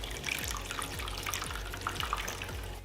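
Melted candle wax poured into a bowl makes a soft, continuous liquid trickle with light splashy drips, close and faint, with no talking.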